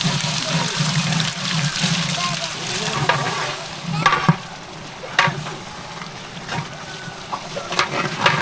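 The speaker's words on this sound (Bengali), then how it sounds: "এখন গরম পানি দেওয়া হচ্ছে।" Hot water pours into a pot of frying khichuri for an iftar meal, giving a steady loud sizzle and splashing hiss with scattered clinks and bubbling pops throughout.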